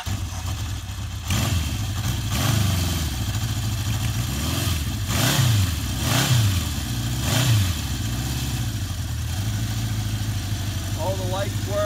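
A 1976 Honda CB750 motorcycle starts at once on the choke and settles into a steady four-cylinder idle, with several throttle blips rising and falling before easing back to idle.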